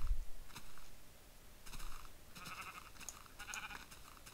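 A sheep in a video game bleats several times, faint wavering calls repeating in short groups over a low background hiss, with no talking.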